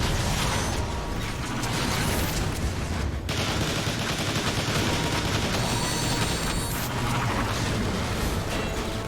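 Dense, continuous gunfire and mechanical clanking fill a Transformers: War for Cybertron battle, loud and unbroken, with rapid shots layered over whirring and metallic effects.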